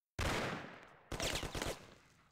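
Gunshots ring out in the Mafia video game: a single sharp shot, then a short rapid burst of automatic fire, both close and loud with a decaying tail.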